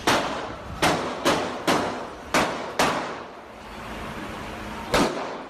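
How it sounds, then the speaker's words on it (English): Six sharp gunshots in quick, uneven succession during a bar shooting in California, each cracking and echoing, followed by a tense pause and one more shot. "That piercing sound, it's gunfire."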